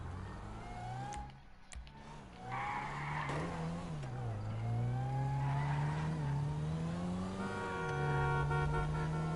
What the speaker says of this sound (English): Oh, I'm stealing a car.